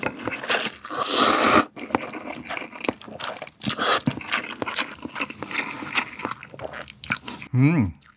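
Spicy Shin Ramyun The Red noodles are slurped and chewed up close in a snack-bar style meal with tteokbokki and gimbap, a loud burst of slurping followed by steady wet chewing and a short tail of speech at the end.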